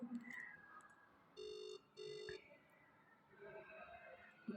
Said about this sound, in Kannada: this is ring guys ring ಆಗ್ತಾಯಿದೆ